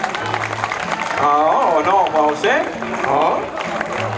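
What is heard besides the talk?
audience applauding at a town festival proclamation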